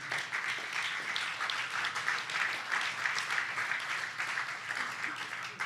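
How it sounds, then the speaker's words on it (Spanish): A church congregation applauds during a Good Friday service, a soft, even patter of many hands heard from a little distance, steady throughout without voices. "Dale un aplauso al Señor"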